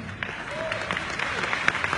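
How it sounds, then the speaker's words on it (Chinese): An audience at a Riway Purtier product presentation claps, a brief scattered round of applause from a crowd, moderately loud and without speech over it. "我真的不知道你们拍手做什么"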